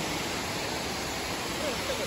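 Mountain stream water flowing down across a road on the trek from Sonprayag to Kedarnath, a continuous loud, close rushing roar that fills the whole stretch.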